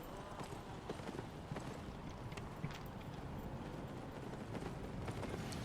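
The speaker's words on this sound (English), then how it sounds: "Oh, probably because I'm riding on a horse." Steady clip-clop of horse hooves while riding in the video game Albion, a continuous quick rhythm of soft thuds sitting close and fairly quiet over a dense background bed.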